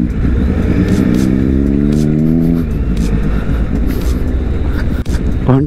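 A superbike stuck on a rough hill-village road in Kolli Hills revs hard and loud, its engine pitch climbing and dropping in long surges over rattling and clatter, while people talk through it.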